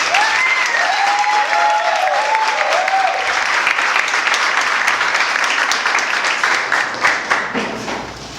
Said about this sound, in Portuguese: nós vamos recebê-lo com salve e palmas